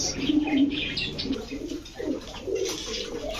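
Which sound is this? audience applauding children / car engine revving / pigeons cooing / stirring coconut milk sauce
pigeons cooing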